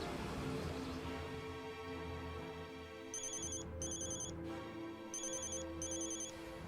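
A telephone ringtone chirps in two paired bursts of electronic trills over a low background music bed, with no voices, from a drama scene in which a woman phones her younger sibling.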